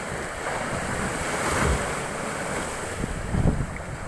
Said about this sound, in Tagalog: Tinding alon.